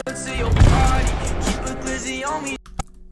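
A harsh, distorted noise effect plays loudly, then cuts out abruptly, followed by a couple of faint clicks in near silence.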